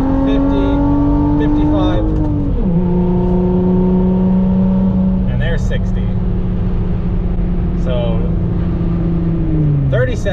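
A lifted 2020 Jeep Gladiator with a six-speed accelerates hard in first gear, its engine note climbing in pitch, briefly dropping at a shift, then holding a steady droning pull up close, with a few faint voice fragments over the top.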